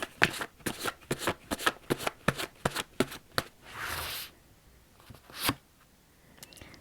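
A tarot deck is shuffled close by: a quick run of crisp riffling clicks, then a longer papery swish and a final tap of the cards.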